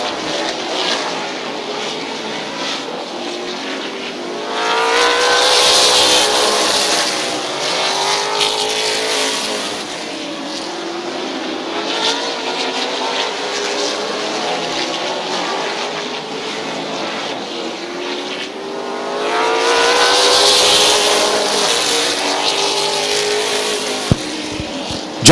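Race cars at Midvale Speedway roar past in waves, engine noise swelling loudly around six and twenty seconds as the pack sweeps by, with a steady drone of circling cars in between and no talk.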